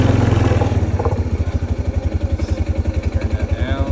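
Kawasaki Prairie 300 ATV engine starting on full choke after a carburetor cleaning, a brief cranking catch then a loud, close, rhythmic low chugging idle that settles into a steady pulsing beat, with a faint voice briefly over it.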